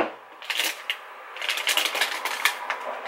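A snack pouch from an Indian market being cut open, with close crinkly crackling and snipping bursts of plastic wrapper, irregular and fairly loud, no talking.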